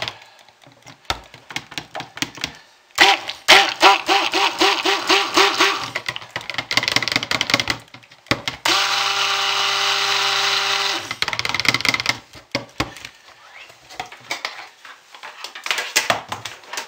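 Soap batter with scent oil being blended toward thick trace with a handheld motorized mixer, which buzzes loudly in several bursts with a sustained whir in the middle, separated by quiet pauses and clicks, close up.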